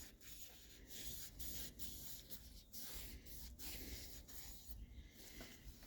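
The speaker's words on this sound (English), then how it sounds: "get some brake clean and spray out all the little holes" Short hissing bursts of brake cleaner spray into a lawn mower carburetor, coming close and loud in an uneven rhythm of sprays and brief pauses, with rubbing handling noise in between.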